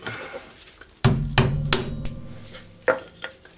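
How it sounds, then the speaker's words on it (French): A bit in an impact screwdriver is struck with a hammer while replacing a rear wheel ball bearing, giving a handful of sharp metallic blows, close and loud, irregularly spaced with ringing between hits. "j'ai pris un tournevis à frapper. On va voir ce que ça donne avec un embout"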